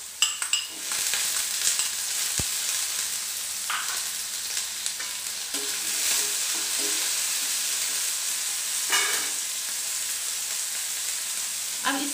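Ginger pieces and finely chopped green chili sizzle steadily in a hot pan, a continuous loud frying hiss broken by occasional scrapes and clinks of stirring, close up and with no voices.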